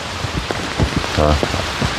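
Rain patters steadily on a surface, with a brief tonal squeak or creak partway through; no speech.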